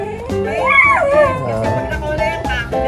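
A chained dog gives high, wavering whimpers and yelps, with rising and falling whines that run close to the listener, loud and continuous over a few seconds.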